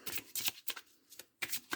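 Oracle cards are shuffled by hand in quick riffling bursts, five or six close, crisp flurries separated by brief pauses.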